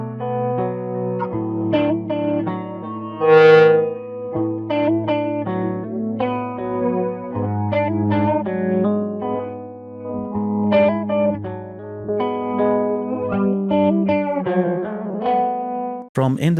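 Stereo ping-pong delay plugin demo from a mixing VST, with tonal musical material bouncing in repeated echoes and a chorus-like, slightly distorted sheen, sustained and steady throughout with no voice over it.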